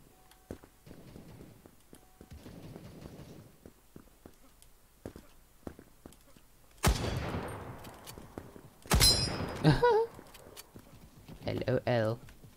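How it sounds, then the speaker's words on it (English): Shotgun blasts in the browser shooter Krunker: a few sharp, loud bursts arrive after several quiet seconds of footsteps and clicking, with a player's voice talking over the action. "Oh, with a shotgun."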